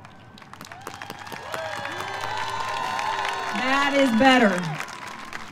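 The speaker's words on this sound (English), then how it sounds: "Please stand again and give yourselves a true, loud round of applause." Graduates at a community college graduation ceremony give a loud, sustained round of applause that swells with cheering and whoops, while a voice speaks over the start.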